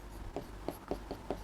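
Handwriting with a pen on paper during a class 6 maths lesson, five quick, soft strokes about a quarter second apart, faint and close in a quiet room.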